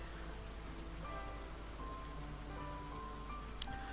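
Steady rain hisses across the whole stretch in a video game, a dense even wash of falling drops with faint tonal game sounds drifting underneath.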